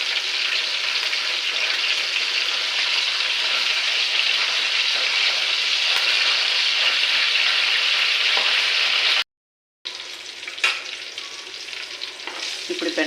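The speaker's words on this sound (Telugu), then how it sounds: "ఇవి కొంచెం లైట్గా వేయించుకున్నామండి బెండకాయలు. ఈ బెండకాయల్లో కొద్దిగా ఉప్పు వేస్తున్నాను." Okra fries with salt in a pan, giving a steady, dense sizzle that runs almost without a break, cut off by a short gap of silence, then a few stirring clatters over quieter frying.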